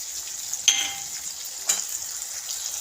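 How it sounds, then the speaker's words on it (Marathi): Vegetables for tawa pulao, including green peas, sauté on low heat in a pan with a soft, continuous sizzle, broken by two sharp stirring clicks. "हे सर्व एक मिनिटभर आपण छान परतून घेऊया भाज्या सर्व आपल्याला मऊ झाल्या पाहिजे"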